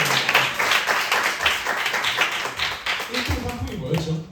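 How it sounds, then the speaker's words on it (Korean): A room of young people at a church youth service applauds a first-place winner with brisk, loud clapping, and voices are heard among the claps. "박수로 맞이하겠습니다"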